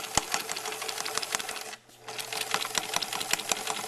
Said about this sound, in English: now we're going to start sewing around the center